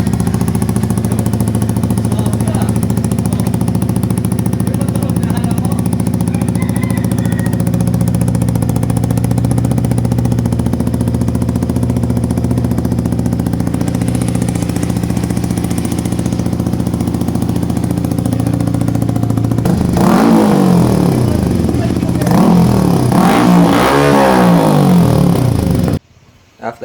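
A Yamaha XSR 155 motorcycle with an M4 full system exhaust muffler idles steadily and loudly up close for about twenty seconds, then revs in several sharp rising bursts before cutting off, with no talk.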